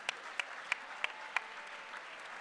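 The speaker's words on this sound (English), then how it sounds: "can't give yourselves a round of applause" Gala audience clapping at an anniversary awards event, a soft steady patter of applause with a few sharper isolated claps early on, fairly faint and without talk.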